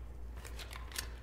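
A weapon being reloaded in the SCP Pandemic video game: a quick run of three or four crisp mechanical clicks and clacks over a steady low game hum, fairly quiet.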